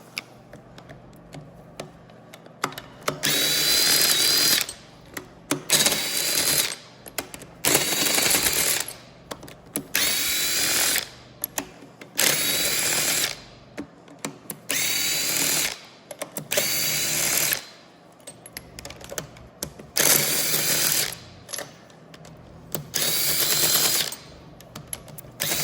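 Triple square bit on a ratchet loosening engine head bolts, heard as repeated bursts of rapid metallic clicking separated by short pauses, close and fairly loud, with no talking.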